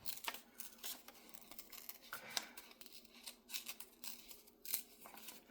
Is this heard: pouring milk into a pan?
no